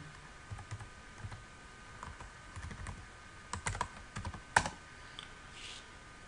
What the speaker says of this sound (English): first let me type Google here